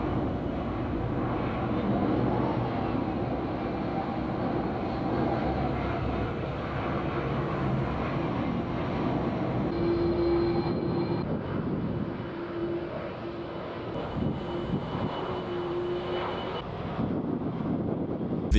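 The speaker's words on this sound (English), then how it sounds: "This is how rush hour looks at Logan Airport in Boston." Airliners at Boston's Logan Airport during rush hour give off a continuous heavy jet roar with a thin whining tone, steady and fairly loud, with wind buffeting the microphone.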